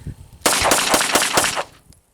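Five rapid, loud, close pistol shots from a Ruger 9E handgun fired during a reliability test with sand in the firing pin channel, cracking in quick succession and then fading out.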